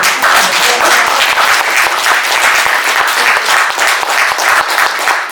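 Loud, sustained applause from a large audience at a lecture, dense clapping filling the whole stretch without pause.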